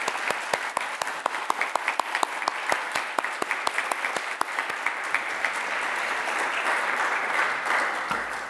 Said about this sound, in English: Can we just get a round of applause for these prefects here?